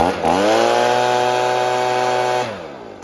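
A Stihl BG 50 leaf blower fitted with a BG 55 carburetor runs at a steady, loud two-stroke drone close by. After a brief rev at the start it holds an even pitch, then drops back toward idle near the end.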